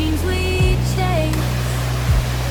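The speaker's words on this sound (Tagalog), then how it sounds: "Ang ingay lang dito guys kasi yung ragasan ng tubig." Water roars in a steady, loud broadband rush at Wawa Dam in San Rafael, Montalban, with a low engine-like drone and tonal hums layered over it.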